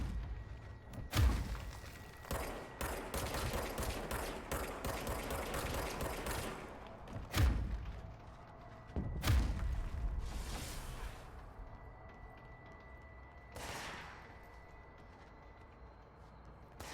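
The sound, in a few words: gunfire in video game Control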